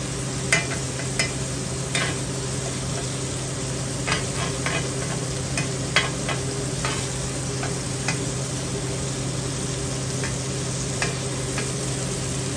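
Ground beef for chopped cheese sizzles steadily in a pan while being fried crispy, with a continuous hiss broken by occasional clicks and scrapes of stirring, close and unaccompanied by talk.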